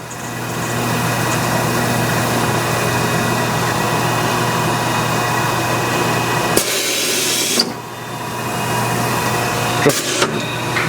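A Royal Master centerless grinder runs an automatic grinding cycle: a steady mechanical whine and hum with a hiss of grinding, then a sudden change as the cycle shifts and retracts, at moderate level.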